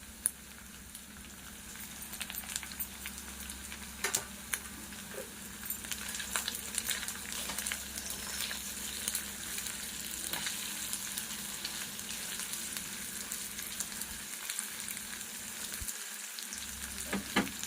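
Small dried fish (nethallu) fry in a pan with turmeric, giving a dense, steady sizzle and crackle with occasional stirring clicks, close and continuous.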